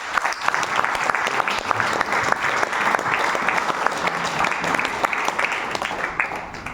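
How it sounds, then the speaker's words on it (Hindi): An audience gives loud, sustained applause, a dense crowd of clapping hands continuing evenly throughout. "तो एक बार जोरदार क्लैपिंग करना दोस्तों।"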